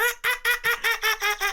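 A human voice imitating seagulls, about eight rapid nasal squawking calls in an even rhythm, close and clear with nothing else behind them.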